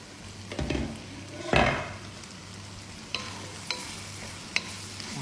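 Vegetables and masala cooking in oil in a pan for a vegetarian kurma, a low steady sizzle with a couple of louder stirring scrapes early on and a few light metallic taps of a spoon against the pan.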